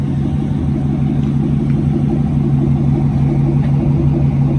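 A Chevrolet Corvette C4 with an LT4 V8 running close and loud, a steady deep throbbing engine drone with no clear rev swings and no talk over it.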